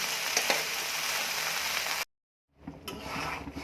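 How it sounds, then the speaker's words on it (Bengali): Okra (bhindi) frying in a pan at home, a close steady sizzle that cuts out to brief silence and then resumes, with no talking. "ভেন্ডি ভাজি করে ফেলতেছি"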